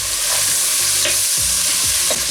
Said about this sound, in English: You can see it's frying good